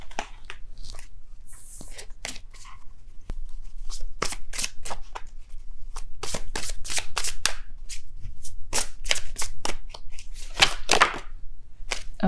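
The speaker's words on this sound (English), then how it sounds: "I will be pulling 3 cards from the Psychic Tarot deck." Tarot cards from a Psychic Tarot deck being shuffled and drawn, a long run of quick, close papery riffles and snaps with short pauses between bursts.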